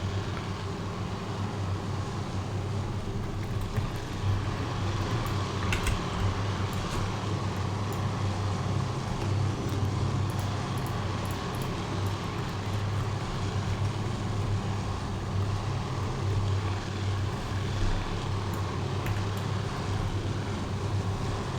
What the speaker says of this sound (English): look at all these torpedo bombers we've got out here